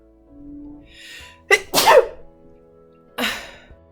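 A single sharp sneeze with a quick inhale before it, close to the listener, followed a moment later by a shorter burst of breath.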